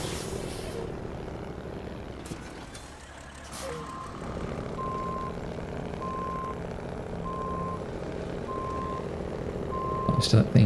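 A heavy truck in SnowRunner reverses to turn around near a ferry warehouse, its steady engine drone underneath a regular, evenly spaced reversing beep that repeats about once per second, with brief rattles at the end.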